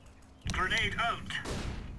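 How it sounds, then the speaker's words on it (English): A Counter-Strike grenade detonates with a sudden loud burst of gunfire-like blasts, followed by ringing, crackling game noise in a busy ultrawide match. "Grenade out."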